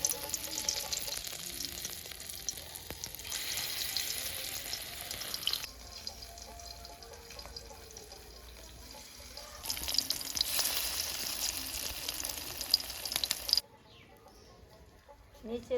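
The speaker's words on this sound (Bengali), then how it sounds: "তেল গরম হয়ে গেছে, ছোটো ছোটো করে বড়াটা দিয়ে দিব।" Fritters made from fish oil fry in a small amount of hot oil. A steady sizzle carries on for several seconds, its loudness shifting in sections, before the sound drops away near the end.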